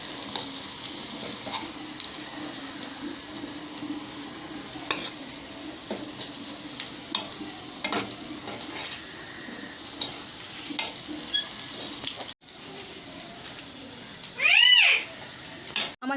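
Fish cutlets frying gently in oil, turned over at medium heat: a steady soft sizzle runs throughout with small pops and clinks, a brief break near the end and a short louder rasp just after.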